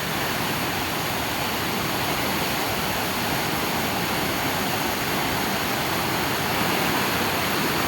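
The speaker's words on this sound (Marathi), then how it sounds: "मोठाच मोठा पूर, हा महापूर आलेला आहे" A big river in heavy flood rushes past with submerged trees, a loud unbroken roar of churning water like a waterfall, steady throughout with no voices.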